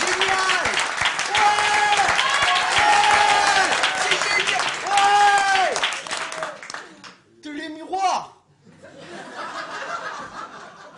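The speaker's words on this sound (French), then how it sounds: "plus fort, on les applaudit" A TV show studio audience claps loudly as the jury is introduced, a dense burst of applause with whoops and laughter, then it thins into scattered chuckles and voices near the end.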